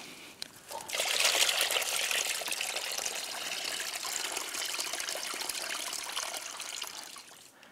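Coolant water drains from the cooling system of a Suzuki GSX-R1000 motorcycle, a steady close trickle and splash that starts abruptly and runs on before tapering off.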